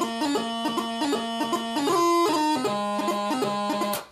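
Highland bagpipes carry The Balmoral Highlanders with livelier phrasing over a continuous drone, the chanter melody punctuated by crisp grace notes, loud and near, then cutting off abruptly at the end.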